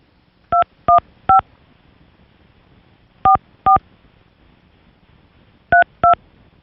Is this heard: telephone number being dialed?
yes